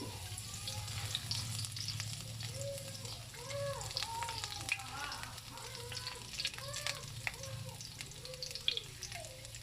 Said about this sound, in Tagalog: gisa tayo pa aking bawang